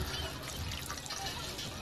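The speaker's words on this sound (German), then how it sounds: "anscheinend können wir hier das Wasser trinken" Water drinking in the modded Fallout 4 sewers, a steady trickling, pouring liquid sound that runs continuously and fairly loud for the whole short stretch.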